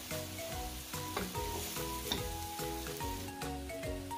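Schezwan cauliflower rice stir-fried in a pan, a steady close sizzle of frying broken by regular scraping and tossing strokes from the spatula, with no talking.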